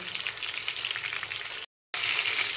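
Two green chillies sizzle in hot mustard oil in a pan just used for frying hilsa fish, a loud, steady crackling fry with a brief cut of silence near the end.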